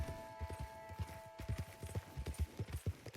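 Horse hooves clip-clop at a steady walking rhythm in Red Dead Redemption 2, a string of close, soft thuds with a low musical drone beneath.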